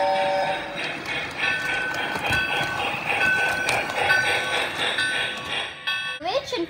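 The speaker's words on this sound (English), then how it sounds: "Here comes the train and I'm the conductor." A train rumbles and clatters with steady tonal ringing and a buzzing alarm-like tone, and a voice speaks briefly at the end.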